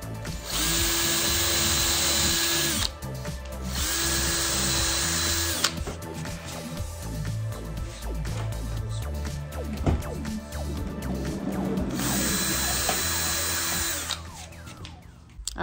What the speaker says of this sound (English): We're gonna drill the metal and put in two screws